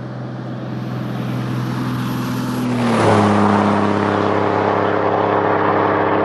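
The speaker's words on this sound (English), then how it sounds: "Traffic is light so far this morning." A car passes on Highway 180 as a steady, loud tire and engine rush swells and its pitch drops midway through, with no talk over it.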